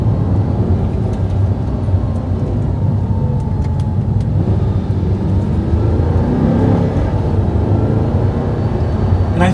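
A twelve-year-old car drives loud and close, its engine note a steady broadband roar that holds for nearly ten seconds with no talking.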